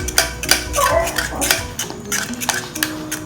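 A spoon stirs a thickening, glue-like mixture in a pot, giving close, irregular scraping and clinking knocks against the pot sides at a steady working pace, with no talk.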